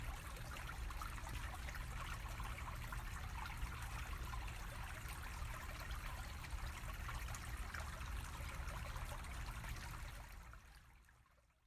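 Water trickles in a stream beside Carleton University in spring, a steady soft babbling wash that fades away at the end, faint and with no voices.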